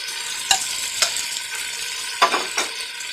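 Tomatoes and ginger-garlic paste being stirred into onions frying in a pan for chana pulao, with a steady sizzle under a few distinct scraping clinks of the spoon against the pan.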